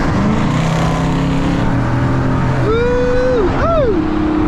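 Dodge Charger R/T and Scat Pack on a highway, a loud droning engine note with a rising rev and a sharp swooping pitch change near the end, heard from inside amid road noise.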